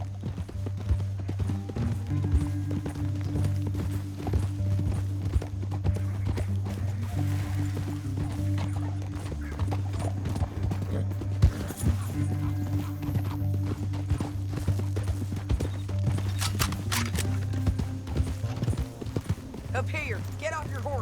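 Horse hooves clip-clop steadily in Red Dead Redemption 2, a continuous rhythmic trot running the whole stretch over a low droning music bed, with an occasional whinny and voices talking.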